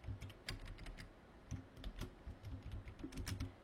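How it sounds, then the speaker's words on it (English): Quiet, close tapping on a computer keyboard, irregular clicks and keystrokes in a short burst while entering text, with no one speaking. "So I'm just going to type,"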